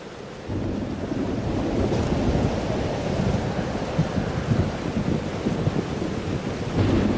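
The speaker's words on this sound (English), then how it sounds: "Weather's worse than I remember it. Storm followed me." Heavy storm weather in Life is Strange: Double Exposure, a continuous roar of rain with deep rumbling thunder rolling underneath, loud and steady with no talking.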